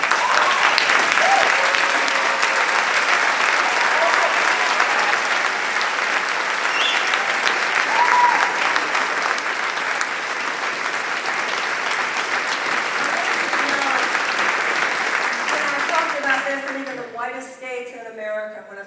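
A large summit audience applauds steadily for about sixteen seconds, a dense, loud wash of clapping that fades out near the end.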